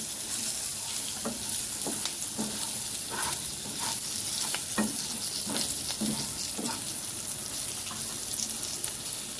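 Fish pieces fry in shallow oil over a low flame, giving a constant close sizzle broken by regular soft scrapes and taps of a spatula turning them.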